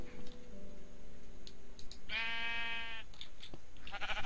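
A sheep in the modded Minecraft pack Agrarian Skies lets out a single wavering bleat lasting about a second, clear and close, over a faint steady game background with a few soft clicks.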